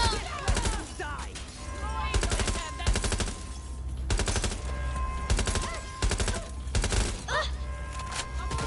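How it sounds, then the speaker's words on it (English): Rapid automatic gunfire bursts in Watch Dogs Legion, loud and close, coming in repeated clusters of shots separated by brief pauses over a constant background hum, with some speech. "Oh well, time to shoot people."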